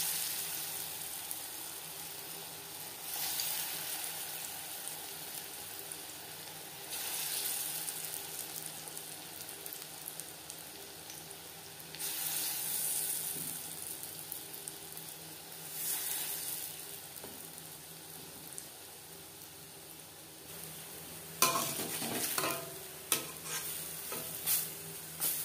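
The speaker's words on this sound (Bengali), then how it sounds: "সবার প্রথমে বড়া ভেজে নেব।" Lentil fritters (bora) fry in a few spoons of hot refined oil over a medium flame, a continuous soft sizzle broken by intermittent stirring and scraping, growing busier toward the end.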